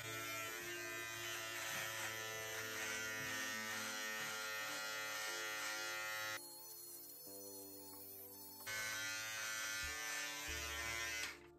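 A Braun All-In-One Trimmer 3 MGK3221 with comb number 2 attached runs with a steady, close electric buzz. Its pitch and tone shift briefly partway through as it moves, then the even drone returns.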